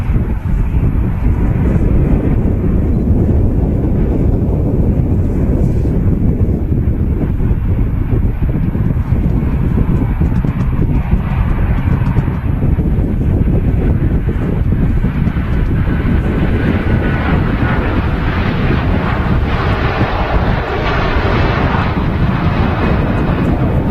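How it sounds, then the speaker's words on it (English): A Virgin A330 airliner begins its takeoff roll at Manchester Airport as a loud, steady broadband roar, heavily mixed with wind buffeting the microphone throughout. "Virgin 330 now starting its takeoff roll."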